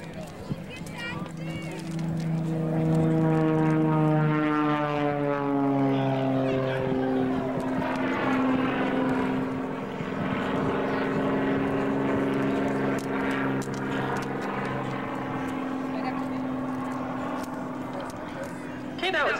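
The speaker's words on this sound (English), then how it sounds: "That was a takeoff with a vertical pole with one roll on the upline." An aerobatic airplane takes off and climbs at an airshow, its engine drone rising and sweeping in pitch as it passes nearby, loud and sustained throughout, with an announcer talking over it.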